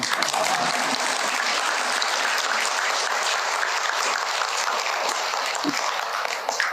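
An audience at a Buddhist Dharma lecture applauds in a long, steady, dense stream of clapping that fills the hall and holds evenly throughout.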